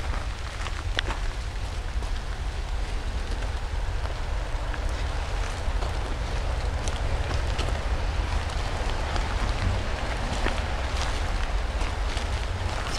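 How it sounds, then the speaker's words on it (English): Steady rain patters on a forestry road in Arkansas, an even, continuous hiss with a low rumble, moderately loud and unbroken, with no voices. "we've been kind of walking through the raindrops hoping to get a clear spot to record for everybody"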